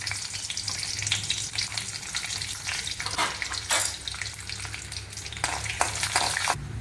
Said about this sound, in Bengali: তেলটা গরম হয়ে গেছে, আমি কাজু দিয়ে দিলাম।